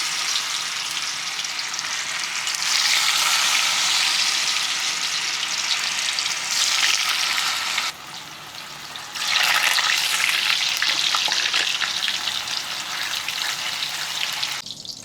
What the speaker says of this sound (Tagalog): habang nagpiprito po tayo ng tokwa